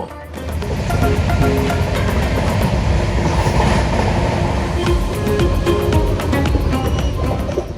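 A passenger train running through Punjab toward Jammu railway station rumbles loudly and steadily, with rhythmic clickety-clack of wheels on rail joints heard close from inside the carriage.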